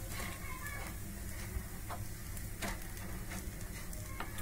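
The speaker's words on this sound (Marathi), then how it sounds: "6-7 मिनिटं लागतात पूर्ण कटलेट्स फ्राय करून घेण्यासाठी।" Sweet potato cutlets frying in a pan for a fasting recipe, a steady soft sizzle with occasional small pops and crackles throughout, fairly quiet and unbroken.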